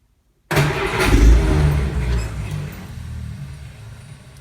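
A Jeep CJ5 engine cold starts at 38°F, catching abruptly after silence and roaring loud and close, then easing down toward a rough idle.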